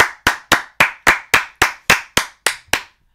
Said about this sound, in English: Round of applause for Seth Beer.